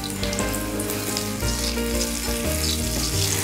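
Pakoras for Punjabi kadhi fry in oil over a medium flame, giving a dense, steady sizzle and bubbling that fills the whole stretch without pause.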